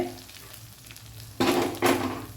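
Three large sliced onions fry in a pan over a medium flame, a steady sizzle broken by two louder bursts of stirring near the end.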